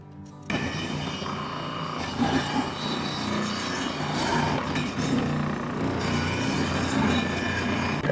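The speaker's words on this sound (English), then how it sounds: "I have my Bravo food processor here." A Bravo food processor shredding halved potatoes on the coarse disc gives a loud, continuous grinding and rasping whir. It starts abruptly after a brief moment of quiet and stays close and steady.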